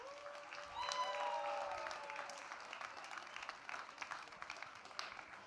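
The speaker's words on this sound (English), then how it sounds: "Another round of applause here for all of our players." Applause for the players at an Excel world championship quarterfinal, an audience clapping steadily under a brief bright electronic tone near the start, moderately distant and soft.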